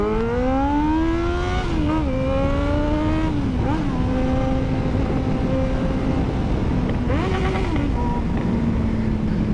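A Yamaha XJ motorcycle engine screams at high revs, bouncing repeatedly off the rev limiter in loud, sustained bursts with brief dips and climbs, close and dominant throughout.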